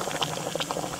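Water at a hard, rolling boil inside a solar cooker gives a steady, close bubbling and seething with no pauses.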